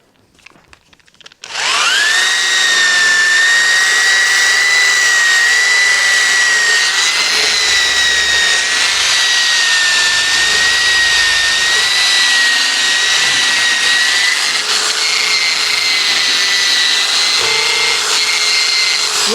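Power-driven wire wheel scouring a wartime Stanley Bailey No5 jack plane, spinning up from quiet into a loud, continuous whining roar that holds steady throughout.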